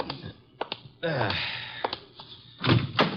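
A car door opens with a thunk and a creak in an old-time Nero Wolfe radio drama, heard close and fairly loud. Brief knocks and shuffles come before it, with speech and breathy sighs around it.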